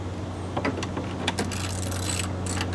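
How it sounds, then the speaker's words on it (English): A ratchet tightens the heater core bolts on a Pentair MasterTemp pool heater, giving sparse close metallic clicks and small mechanical ticks over a constant low hum. "I'm just tightening it a little bit at a time"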